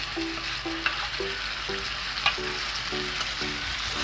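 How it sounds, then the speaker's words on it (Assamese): Chicken curry with tomatoes sizzles and fries steadily in a pan, a constant close crackle with occasional stirring knocks and faint tonal clinks, no voices. "সেই বিলাহী দি দিছোঁ মই ইয়াতে।"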